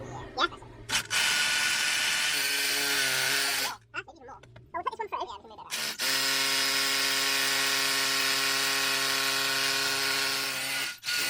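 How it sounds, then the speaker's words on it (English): A power drill whines loudly and steadily while drilling into a wall, drops out briefly amid clattering handling noise, then spins up again for a long sustained run. "I need to probably put this drill at that sort of angle to get that in the right place"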